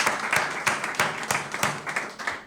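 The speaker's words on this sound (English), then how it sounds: "So just a round of applause to Nanette for all of her contributions over the years." A small audience at the Lasdon Park, Arboretum & Veterans Memorial naming announcement claps in sparse, uneven applause, with individual sharp claps standing out close by.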